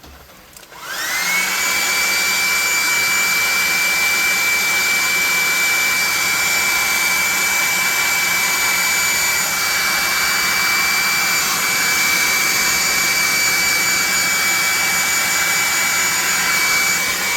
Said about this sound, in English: we're going to hit this with a blow dryer